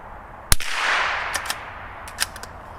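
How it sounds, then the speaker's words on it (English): Supersonic .22LR rounds fired from a Ruger rifle fitted with a suppressor: one sharp, close crack rings out, followed by a few fainter snapping reports over quiet outdoor background. "Those were 3 supersonic rounds."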